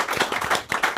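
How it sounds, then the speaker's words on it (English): A brief round of applause on a football preview show, close and fairly loud, with individual hand claps distinct in a quick, uneven rhythm for about a second. "I think that deserves a round of applause."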